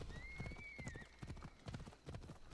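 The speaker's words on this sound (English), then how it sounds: "Run, horsey, run, run, run." A horse in a video game galloping, quick rhythmic hoofbeats clopping close by, with a high whinny early on over a faint background.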